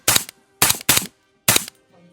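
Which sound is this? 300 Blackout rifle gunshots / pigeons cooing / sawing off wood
300 Blackout rifle gunshots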